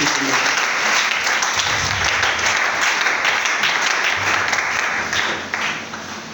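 A church congregation claps together in sustained, dense applause that fills the room at high level and eases off slightly toward the end, with voices faintly mixed in beneath.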